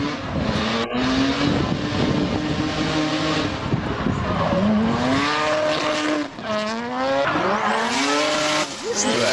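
A drift car's engine screams through rising revs while tires squeal and skid, loud and continuous with repeated pitch sweeps, no talk over it.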